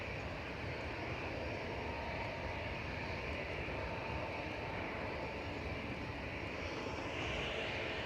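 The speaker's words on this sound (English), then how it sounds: "Ryanair just rolling out, coming in from Cologne there with flight 1592." A Ryanair airliner, arriving from Cologne, rolls out after landing at Manchester Airport. Its steady, broad engine roar holds loud and unbroken throughout, with no voices.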